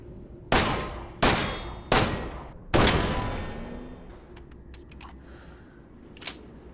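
Four loud, spaced gunshots from a weapon loaded with enhanced ammo in Resident Evil 7, each a sharp crack with a ringing tail, followed by quieter clicks and handling noises.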